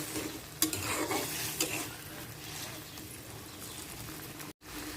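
Turmeric, chili and coriander powders fry with green chili and tomato in a village-style kitchen, giving a constant quiet sizzle under repeated stirring scrapes and a couple of sharp clinks, with a brief cut near the end.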